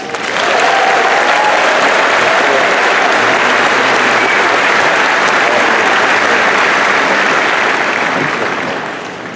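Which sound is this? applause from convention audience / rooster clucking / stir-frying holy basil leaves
applause from convention audience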